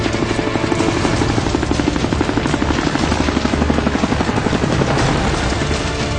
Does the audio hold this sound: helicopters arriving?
yes